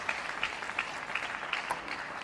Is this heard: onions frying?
no